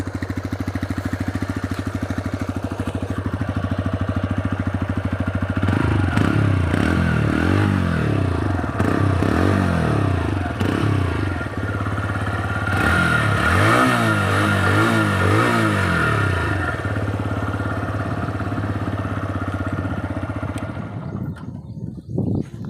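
A new 2024 TVS Raider 125 motorcycle idles nearby with a steady low drone. The engine is revved up and down in two bursts of rising and falling throttle, then it cuts out near the end.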